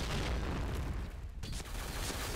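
Grenade explosion in the shooter game Point Blank, a loud, dense, roaring blast filling the space with a brief dip before the rumble continues.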